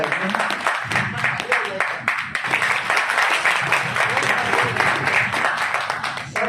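Audience clapping at a company information meeting, dense and continuous applause from a crowd with some talk mixed in, holding at moderate loudness throughout.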